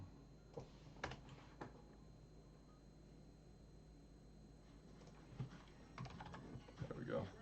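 Typing on a computer keyboard, a few scattered quiet key taps in short bursts at a low level, with faint background noise between them.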